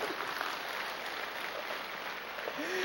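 A church congregation at a revival meeting breaks into steady applause, a dense wash of clapping that holds at an even level for a few seconds.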